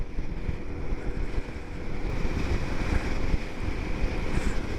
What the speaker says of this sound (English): It's quite a windy place. I am getting quite a blast of air.